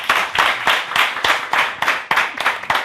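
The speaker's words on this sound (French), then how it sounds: "On applaudit pour vous." Audience clapping in rhythmic, evenly spaced bursts at an evening event, the claps loud and close, steady for about three seconds with no talk over them.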